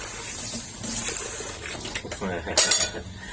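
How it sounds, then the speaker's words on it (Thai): Blended noni fruit, sugar and water are stirred in a small plastic bucket, giving wet sloshing and scraping clinks in an uneven rhythm, close by, with a louder splashy scrape near the end. "กวนสักหน่อย"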